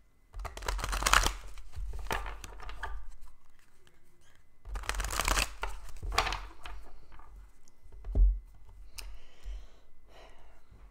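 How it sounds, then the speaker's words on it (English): Cards are shuffled in two long riffling bursts close to the listener, with a soft breath or sigh between, and no talking. "a couple more quick shuffles"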